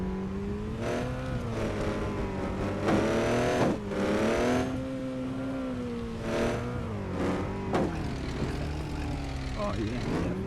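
A Chevy Silverado truck engine from the Offroad Outlaws video game drones steadily while driving over rocks, with repeated rises and falls in revs. Someone talks over it throughout.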